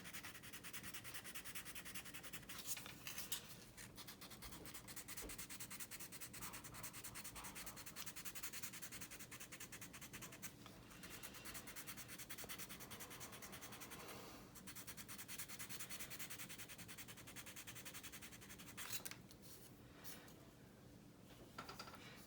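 Sandpaper rubs over CA glue filler in a continuous, quiet scratchy hiss with light, steady strokes, close up and faint, with no talking.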